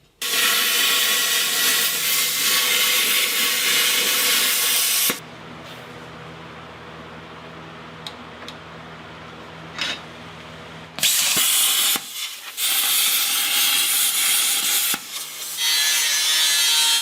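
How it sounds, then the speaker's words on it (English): Welding steel on a Jeep truck rock crawler build, with long stretches of loud, steady crackling arc noise broken by a quieter pause with hum, then resuming, close up and without talk. "I'll weld this side, and then I'll just weld up that gap"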